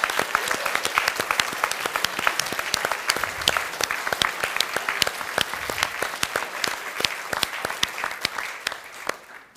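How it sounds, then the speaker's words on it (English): A large crowd at a school question time event applauds steadily throughout, dense clapping at full volume with no voices on top. "So a round of applause, please, for Mr. Parbury."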